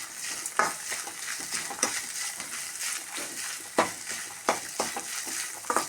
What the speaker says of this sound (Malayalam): അതിലേക്ക് ഒരു പിടി നാളികേരം ഇടാം, ചെറുകിയതിടാം. ലേശം ഉപ്പിടാം. നന്നായി മിക്സാക്കി കൊടുക്കാം.